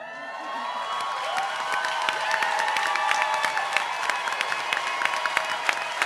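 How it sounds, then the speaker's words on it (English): An audience at a political talk on sovereignty breaks into sustained applause, a dense wash of clapping that builds and holds, with some cheering and voices mixed in. "I want a round of applause that can be heard not in the White House."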